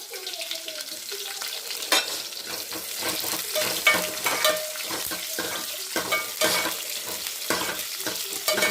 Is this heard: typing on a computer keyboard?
no